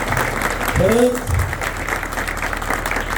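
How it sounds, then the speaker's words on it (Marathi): An audience claps for a drum troupe, a steady spread of applause from many hands, with someone speaking briefly over it near the start. "या वाद्यपथकाच्या सगळ्या वादकांसाठी आणि त्यांचे संस्थापक आणि सगळ्या सदस्यांसाठी एकदा जोरदार टाळ्या वाजवा"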